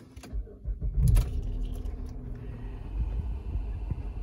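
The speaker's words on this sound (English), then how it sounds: "We start the car." A 2008 GMC Acadia SLT engine cranks briefly and catches, then settles into a low, steady idle rumble heard close by with some light rattling.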